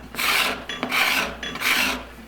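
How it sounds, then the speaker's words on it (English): A steel card scraper drawn across a wooden surface, lifting very thin shavings, makes three even, raspy strokes in a steady rhythm, close and clear with no talking. "We're pulling just absolutely super thin shavings right off of there."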